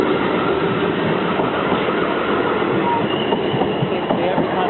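Train passing over the level crossing at Liss Station, a loud, close, continuous rumble and roar of wheels on rails with faint clatter and squeal, steady throughout.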